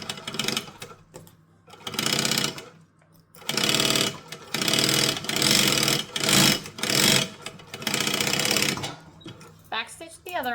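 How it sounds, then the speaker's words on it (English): Sewing machine stitching a boxy pouch in several loud bursts, stopping and starting as it runs forward and then backstitches at the end of the seam. "we are going to stitch and backstitch at the end."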